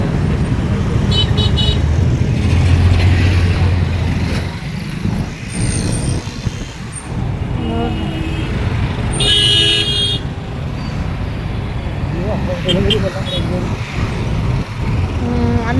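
Road traffic in Mumbai, a steady rumble of cars and trucks with occasional short horn toots, close and continuous, with people talking over it.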